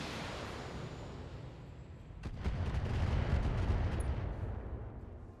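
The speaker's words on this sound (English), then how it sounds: "I think that was an LRM-15 salvo" A salvo of LRM-15 missiles in the BattleTech game hits with a sudden loud burst after two seconds of steady rumble, then a dense run of rapid impacts and booms swelling over the next few seconds.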